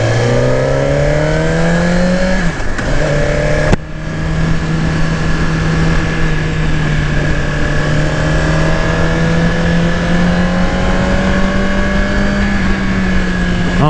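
A 2018 Suzuki GSX-R1000 motorcycle engine in full-power A mode runs steadily and loud close by, its pitch rising through gears with a brief dip and shift gap early on, wind rush underneath throughout.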